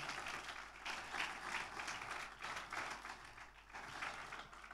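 A crowd claps in dense, sustained applause that swells and dips slightly over several seconds.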